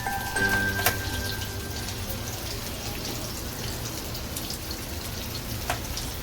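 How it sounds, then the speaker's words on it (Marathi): Surmai fish frying in masala, a steady sizzle and crackle with scattered pops, close and fairly loud, with no talking. "अशा पद्धतीत सर्व फिश फ्राय करून घेणार आहे मी आता"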